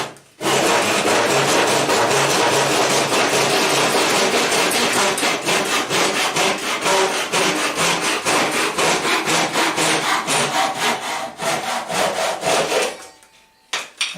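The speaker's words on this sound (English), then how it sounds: "let's just try this on a bit of 3/4 inch ply. I'm using the rip cutting side or the coarse" A Lidl Japanese pull saw cuts 3/4 inch plywood on its coarse rip side, giving fast, loud, rhythmic rasping strokes for about thirteen seconds until the cut ends and the sound stops.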